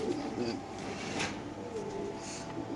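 Female BRPFC racing pigeons coo softly in a low, steady murmur while being held and handled, with someone talking over them throughout.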